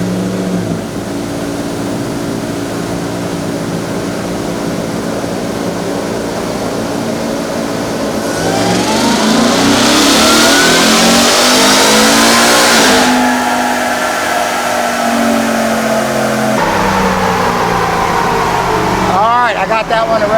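A Ford Raptor R on a dyno holds a loud, steady engine drone, then climbs in a rising rev toward 7,000 RPM, drops back, and runs on at a lower pitch, with a shorter rise near the end.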